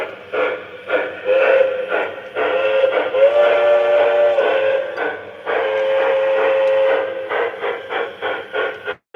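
Model steam locomotive on a remote, set to four chuffs per revolution, giving rhythmic puffing pulses with a steam whistle sounding in long held tones through the middle, close and loud, with no talking.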